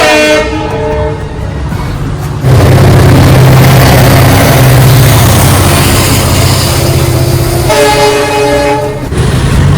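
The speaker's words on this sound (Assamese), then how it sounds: "আৰু এখন ট্ৰেইন আহি আছে" A train roars past loud and close, a continuous heavy rumble, with horn blasts sounding at the start and again near the end.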